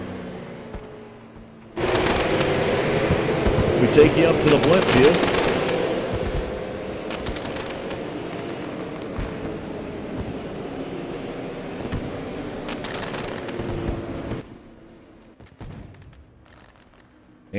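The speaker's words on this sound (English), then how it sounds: "Fireworks continuing to go." Fireworks burst over a race track in rapid crackling volleys and pops, loud and sustained, with a commentator talking over them before the barrage cuts off and a few late bangs follow.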